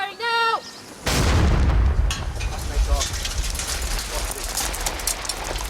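An artillery gun fires during a military operation in Afghanistan, a sudden loud close blast followed by a long rumbling, crackling decay of debris and echo; a short voice is heard just before the shot.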